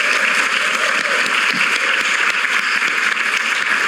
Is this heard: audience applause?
yes